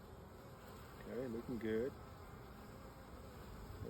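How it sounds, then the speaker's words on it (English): Honeybees in an established hive make a steady, soft, continuous buzz, heard close and low, with someone speaking briefly over the hum. "A lot of bees in here."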